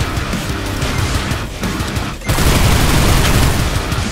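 Rapid plasma rifle fire in a frantic first-person shooter, a dense, continuous barrage of loud shots that dips briefly near the middle, then surges back even harder.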